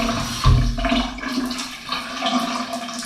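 A hotel shower head runs with a strong, steady flow of water, filling the whole stretch with a continuous broadband hiss that swells briefly near the start.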